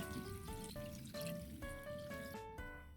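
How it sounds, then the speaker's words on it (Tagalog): River water poured into a cooking pot, a steady close trickle whose pitch rises in steps as the pot fills, heard alone and fairly quiet. "galing ng riverside."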